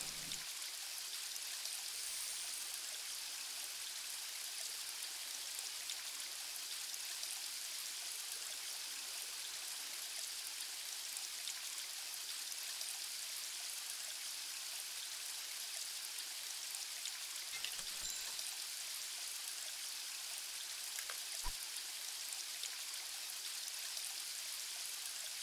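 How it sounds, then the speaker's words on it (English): Steady rain falls in the fishing video game Fishing Adventure, a constant broadband hiss with no talk and no thunder, only a couple of faint ticks near the end. "Oh no, not the rain again."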